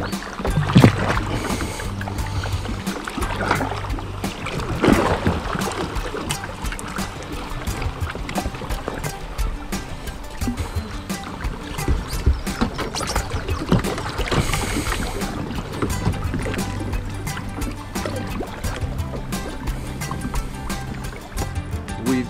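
A kayak cruising along a Texas river, with steady water swish and splashing paddle strokes close by, occasional louder knocks and gusts, no talking.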